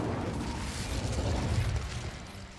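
Hogwarts Legacy's Incendio fire spell erupts as a whooshing, crackling burst with a rumbling low boom, loud and sustained for about two seconds before easing off.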